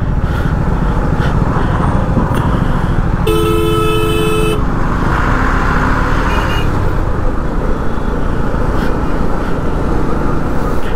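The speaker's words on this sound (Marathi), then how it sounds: "बेलापूर जंक्शनच्या इथे ट्रॅफिक लागलं आहे" Busy road traffic at Belapur junction, with a steady wash of engines and a loud car horn honking in a sustained blast for about a second near the middle, other fainter toots around it.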